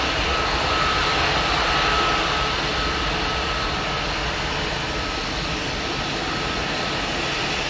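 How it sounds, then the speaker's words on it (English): A Ryanair jet airliner on approach produces a steady, loud, broad engine roar that holds evenly throughout with no voices. "there's a Ryanair on approach"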